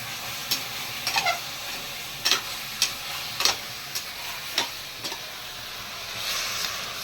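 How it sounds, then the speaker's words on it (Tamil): Chicken curry masala sautéing with salt and turmeric in a pan for a village-style chicken kuzhambu, giving a soft steady sizzle broken by scattered light scraping clicks of a stirring spoon, close and without talk. "நல்லா வதக்கணும்"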